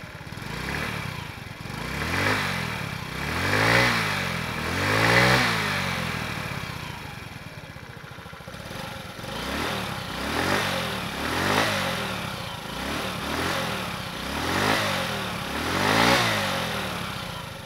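A 2023 Honda Ruckus scooter's small engine starts and runs at close range, with repeated throttle blips rising and falling in a steady rhythm over a continuous idle.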